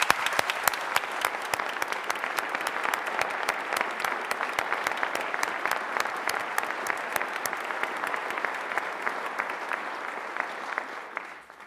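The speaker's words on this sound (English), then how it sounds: "Let's give them a round of applause," Audience applause at a state governor's budget address, a sustained round of clapping from a large crowd with distinct individual claps standing out, gradually thinning and fading at the close.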